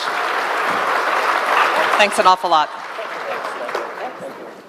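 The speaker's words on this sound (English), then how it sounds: "Warm clap for them one more time" Audience applause fills the room throughout at a business summit in Nairobi, steady clapping from a crowd, with someone speaking briefly over it in the middle.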